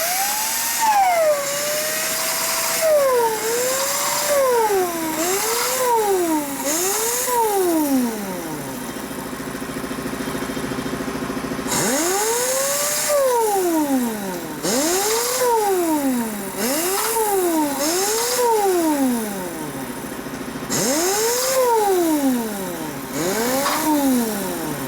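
An angle grinder works a Kraus inverted fork tree stem, freshly powder coated, for a Twin Cam Dyna: a loud motor whine rises and falls in repeated swooping cycles as the tool bites and eases, pausing briefly midway before resuming.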